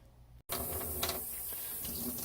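A faucet turns on and runs steadily over a dental impression being rinsed in a sink, a sudden burst of splashing water after brief quiet, then a continuous close hiss.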